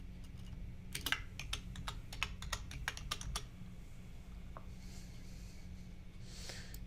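Someone types a username on a computer keyboard, a quick run of close, crisp key clicks that thins out and stops, leaving a faint low hum and a few soft taps afterward.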